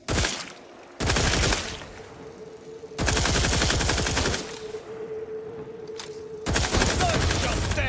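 Loud bursts of rapid automatic gunfire from The Outer Worlds 2 come in three long volleys with short gaps between them, close and harsh, and a steady tone hums underneath.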